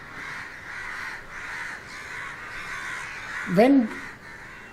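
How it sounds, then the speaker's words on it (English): Crows caw in a noisy, excited flock, one sharp caw rising near the end over a steady background din while a voice speaks briefly. "The reason you have this cacophony of crows just now"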